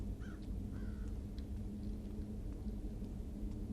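Two short crow caws sound early over a constant low rumbling game ambience in the stealth video game Thief, followed by faint scattered clicks and no voices.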